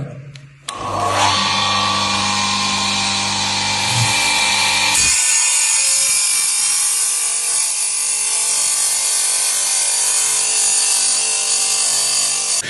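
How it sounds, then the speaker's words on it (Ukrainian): An electric wet tile saw with a 1.2-metre cutting length slices through ceramic tile, a loud continuous grinding whine that starts abruptly, shifts pitch partway as the blade bites, and runs steadily to the end. "Тоді на підмогу приходить оцей коняка. Це мокроріз."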